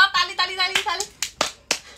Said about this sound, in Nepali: ल ताली ताली ताली ताली